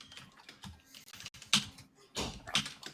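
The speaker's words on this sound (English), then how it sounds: "I'm glad that you're typing" A computer keyboard being typed on, with quick irregular clusters of crisp clicks and a few sharper, louder keystrokes, close by and nearly alone.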